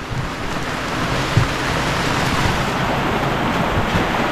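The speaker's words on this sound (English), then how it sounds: "Since it's raining, might as well catch some rainwater." Steady, dense hiss of rain falling continuously, with no voices and only a faint thump partway through.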